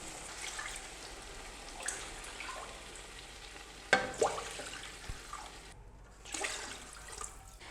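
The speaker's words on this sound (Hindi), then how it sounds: "पानी हमने इसमें डाल लिया है।" Water splashing and trickling into a cooking pot as it is filled for soaking rice for chicken pulao, a steady wet rush with a sharper splash partway through, close and moderately loud.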